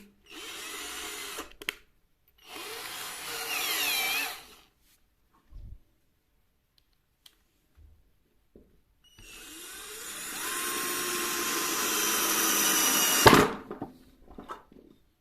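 A cordless drill runs in several bursts: two short whirring runs, a pause with light handling clicks, then a longer loud drilling pass that ends with a sharp clunk, all close up with no talking.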